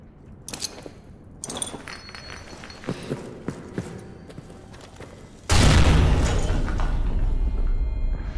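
In the horror game Amnesia: The Bunker, a run of sharp clanks and knocks is followed by a sudden loud grenade blast. A heavy, rumbling roar then carries on for several seconds.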